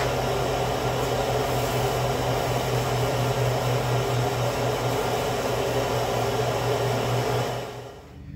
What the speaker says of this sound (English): I gotta get the fire stoked up again.